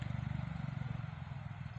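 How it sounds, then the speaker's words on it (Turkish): A farm tractor works a field of eggplants, its engine a steady, rhythmic low chugging that holds fairly close throughout without talk over it. "traktörümüz geldi."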